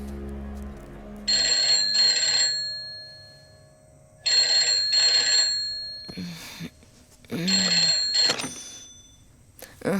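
A phone rings in three repeated bursts with pauses between them, fairly clear, and short sounds fill the gaps.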